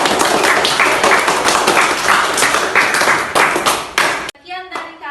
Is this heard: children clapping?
yes